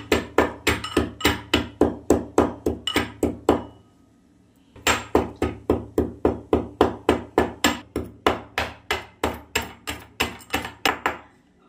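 Cardamom being crushed fine for a milk sweet makes sharp, evenly spaced pounding strikes, close and loud, in two steady runs separated by a short pause.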